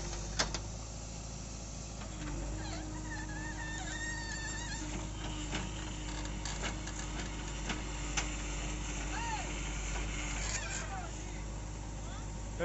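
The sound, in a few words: JCB engine loading soil into tractor trolley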